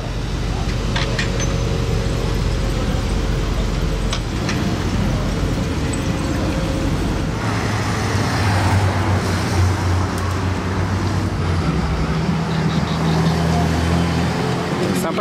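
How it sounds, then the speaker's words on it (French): An Aston Martin convoy, the new Vantage followed by a DB12, drives past on a busy street in Monaco, engines rising and fading over general traffic noise while people talk nearby. "Convoi Aston Martin avec la nouvelle Vantage suivie de la DB12."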